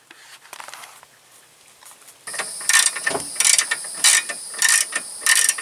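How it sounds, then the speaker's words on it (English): Ratchet wrench loosening a control arm bolt on a Volkswagen Jetta MK4 GLI: after quieter handling clicks, a loud rapid ratcheting in repeated bursts, close up and rhythmic. "I'm gonna loosen this bolt here"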